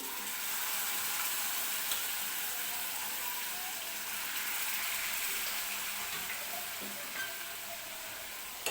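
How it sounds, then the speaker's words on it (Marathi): Broth poured into sizzling masala in a pan for dry mutton, a steady close hiss and crackle with liquid splashing, continuous and fairly loud throughout. "मी याच्यामध्ये थोडंसं हा जो आळणी रसा आहे तो टाकते"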